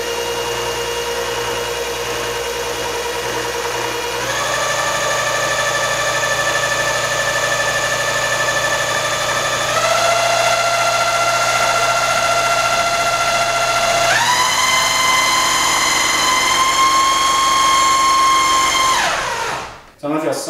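A cordless drill spins a small wind turbine to charge a battery, giving a steady, close motor whine that steps up in pitch three times before spinning down and cutting off at the end.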